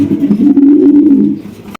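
A pigeon coos close by in one low, rolling, throaty call lasting under two seconds, loud and clear with no talking.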